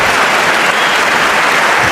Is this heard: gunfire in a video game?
no